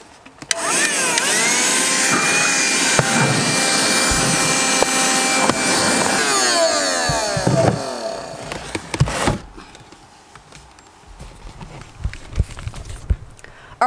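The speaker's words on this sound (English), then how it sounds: "it's not the best vacuum, but yeah, whatever, it's gonna do" A cheap vacuum cleaner roars steadily inside a DIY camper van, loud and close, its pitch shifting as the nozzle moves before it switches off and leaves quiet clatter.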